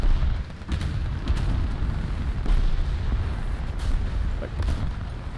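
Gunfire and heavy cannon booms from tanks in the War Thunder battle game, an irregular series of thuds and sharp reports over a rumbling engine bed, with a voice talking now and then.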